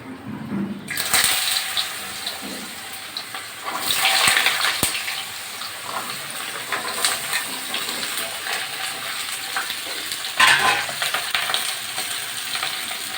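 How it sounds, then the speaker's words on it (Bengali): Cut and washed potatoes frying lightly in a pan while being made into mustard hilsa, a steady hiss and crackle running throughout, with a brief sharper burst of sizzling and stirring near the middle. "এখন আমি হালকা করে আলুগুলো ভেজে নেবো"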